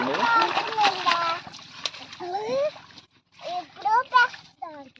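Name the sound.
children splashing and playing in water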